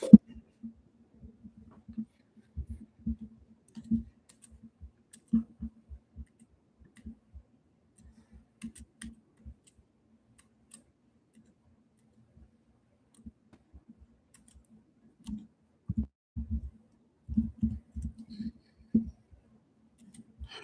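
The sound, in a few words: typing on a computer keyboard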